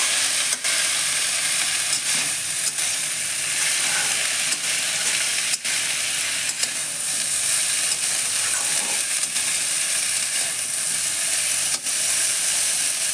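Cauliflower stalks and leaves frying in a pan while being stirred: a steady, loud, close sizzle with periodic scraping knocks of the spatula, and no talking.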